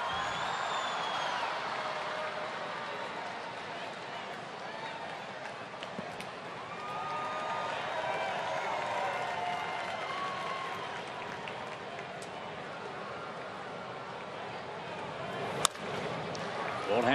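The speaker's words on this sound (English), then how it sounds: "And another big cheer for Chipper." Baseball crowd at a game in Atlanta cheering for Chipper, a broad, steady roar of many voices spread across the stands, sustained and fairly distant, with one sharp knock near the end.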